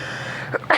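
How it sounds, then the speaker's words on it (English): A single short sneeze bursts out over a quiet background hum, a quick two-part explosive breath close to the microphone. "I sneeze too"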